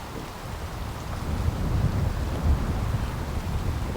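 Heavy rain falls steadily in Glasgow, a dense, continuous low rumbling wash with gusty wind, unbroken and with no voices.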